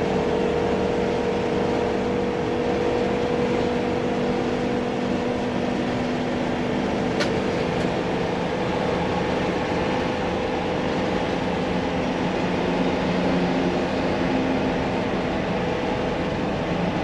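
A 2016 Thor Axis Class A motorhome engine drones steadily with road noise, accelerating uphill from a dead stop, a constant rumble that strains evenly without letting up.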